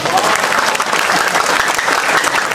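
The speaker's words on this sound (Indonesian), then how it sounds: "aplaus." An audience claps loudly and steadily at a Halal Bihalal cultural gathering, a dense, sustained crowd applause throughout.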